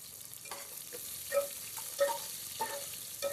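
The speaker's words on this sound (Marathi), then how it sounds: "आता आपण याच्यात लसूण आणि कांदा एकसाथ टाकतो. आता हे चांगलं आपण फ्राय करून घेऊया." Garlic and onion fry together in a pan as a soft, steady sizzle, with a spatula stirring and scraping in a few gentle strokes close by.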